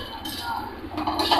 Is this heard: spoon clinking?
yes